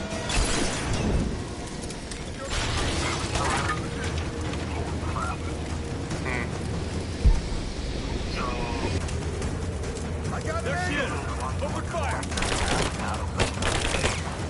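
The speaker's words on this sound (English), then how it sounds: "I'm under fire!" Bursts of gunfire in the video game Rise of the Tomb Raider, with loud, dense volleys at the start and end and scattered shots in the middle, heard over rumbling game noise while voices speak.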